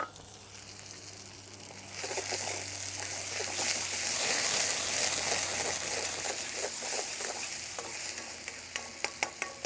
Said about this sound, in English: That's it, fry that down.